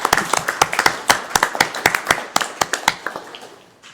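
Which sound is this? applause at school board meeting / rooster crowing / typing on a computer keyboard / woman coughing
applause at school board meeting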